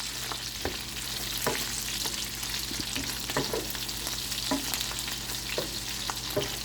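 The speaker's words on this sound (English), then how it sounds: "my sausage is frying" Sausage sizzles steadily in oil in a pot while being stirred for gumbo, with periodic scraping and clinking of a utensil against the pot, close up and without talk.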